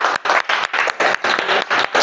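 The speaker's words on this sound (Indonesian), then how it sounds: "tepuk tangan untuk semuanya" A classroom applauds during a lesson, a burst of group clapping in quick, evenly spaced pulses, loud and close, with no speech over it.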